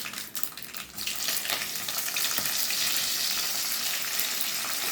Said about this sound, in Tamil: கடுகு உளுத்தம்பருப்பு கருவேப்பிலை எல்லாம் பொரிஞ்சிடுச்சு